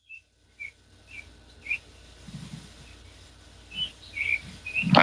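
Birds call in the distance outdoors, a series of short, high, whistle-like chirps repeating roughly every half second, faint against a quiet background with a few soft rustles and a louder thump at the end.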